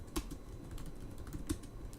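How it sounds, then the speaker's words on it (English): Fast typing on a computer keyboard while a project plan is filled in, with light clicks running steadily through the pause and two sharper key strikes standing out. "You can adjust what's mentioned here by simply typing it in."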